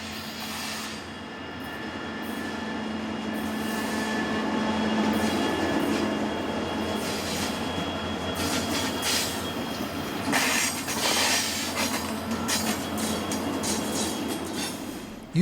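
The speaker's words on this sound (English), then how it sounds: "UP Olympic Unit number 2002 led this westbound stack train down San Mateo Canyon" A westbound Union Pacific double-stack container train led by Olympic-scheme locomotive 2002 rolls down San Mateo Canyon on the Yuma Subdivision near Ordway, a steady loud rumble and wheel roar with sharper rattling bursts as the cars pass close by.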